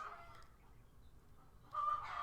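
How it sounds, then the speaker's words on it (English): Chickens at a farm cluck softly in the distance, a faint murmur that swells into a louder burst of clucking near the end, with no one speaking. "you don't hear what you're hearing right now, which is all my chickens clucking"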